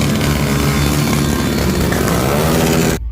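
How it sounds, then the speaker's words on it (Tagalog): Tricycles and motorcycles rev loudly for New Year noise, their exhausts roaring in one steady, dense, close blare that cuts off abruptly at the end. "Alam nyo yung mga tricycle, motor, ang ginawang pangpaingay sa ating mga tainga sa pag-celebrate sa bagong taon sa 2024."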